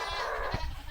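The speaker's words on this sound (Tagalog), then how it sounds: "Ang ingay ng kambing." A goat bleats once, a loud wavering cry close by, with a short rustle and thump at the end.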